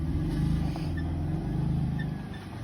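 Off-road vehicle slowly backing up on a trail at Kane Creek, giving a close, steady low engine rumble with a throbbing idle that holds throughout without strong revving.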